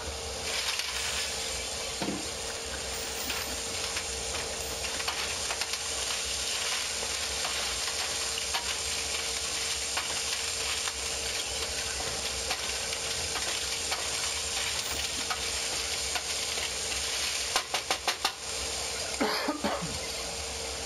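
Shallots sautéing in a pan for New England clam chowder give a steady, moderately loud sizzle and crackle that runs throughout, with a few sharp clicks and knocks near the end.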